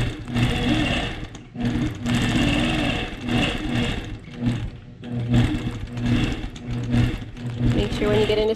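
A sewing machine quilts a border with contrasting thread along a ruler, its steady close mechanical hum running in bursts with short pauses while a person talks over it.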